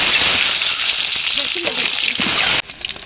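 Cumin powder sizzling and frying in a hot pan, a steady broadband crackle that runs loud throughout and drops abruptly near the end, with faint voice-like fragments in the middle.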